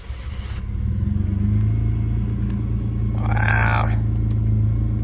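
The engine of a 1990 Mercedes-Benz 300E runs at a steady idle, a loud, close, continuous low rumble that swells slightly partway through, with a brief higher whine layered over it for a moment.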